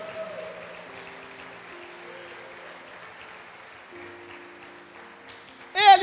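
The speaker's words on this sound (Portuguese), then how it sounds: "esse Jesus merece mais uma salva de palmas" Congregation applause during a church worship service in Barretos, fading from a steady wash of clapping to a quieter patter, with a brief musical tone near the end.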